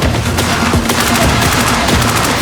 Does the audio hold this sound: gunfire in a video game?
yes